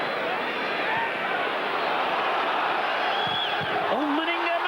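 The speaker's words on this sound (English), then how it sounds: "every challenge will be met by uproarious roars of delight from the home crowd" Home crowd at a 1999 FA Cup third-round football match between Preston North End and Arsenal, a broad continuous roar filling the stadium with cheering swells, heard from a distance at steady loudness throughout.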